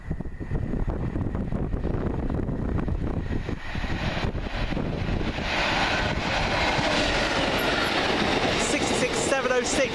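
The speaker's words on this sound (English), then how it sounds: "we've got a looks like another coal train. This one's going through to Drax Power Station" A GB Railfreight coal train of new hopper wagons, bound for Drax Power Station from Tyne Dock, rumbles steadily past with continuous loud wheel and rail noise, some wind buffeting across the microphone throughout.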